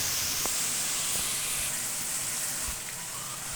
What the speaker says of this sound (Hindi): देखिए चिकन प्याज और लहसुन में कितना अच्छा फ्राई होगा।